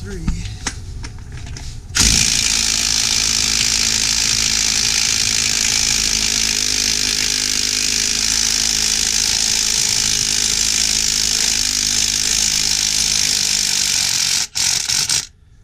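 After a couple of seconds of handling noise, a Milwaukee M18 FUEL mid-torque impact wrench with a 3/4-inch impact socket hammers on a lug nut, a loud, continuous rattling buzz up close, then it stops briefly and restarts near the end.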